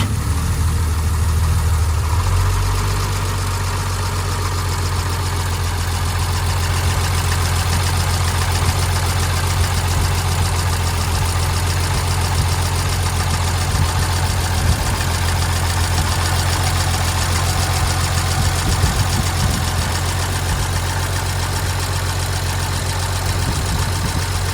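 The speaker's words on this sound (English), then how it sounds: "So that's the engine. That's what it looks like running." A 1954 International truck engine idles steadily close by, a loud low rumble with a faint knocking pulse that runs unbroken and without voices.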